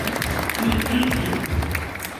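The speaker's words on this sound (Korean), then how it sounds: "박수 한번 해주시겠습니까?" Church audience claps in response to a request to applaud a seminar guest, a steady, dense patter of hands from a crowd filling the room, continuing evenly throughout with some murmuring.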